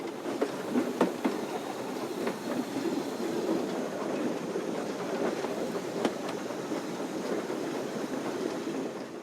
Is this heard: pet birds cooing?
no